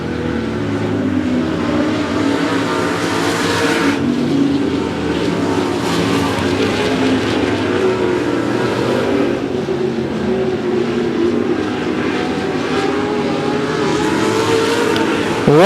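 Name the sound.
race cars racing around 105 Speedway oval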